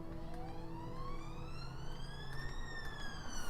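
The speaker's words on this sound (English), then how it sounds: "excuse the siren if you can hear that," An emergency vehicle siren wails, rising and falling steadily outdoors, fairly faint and distant, over a low background rumble.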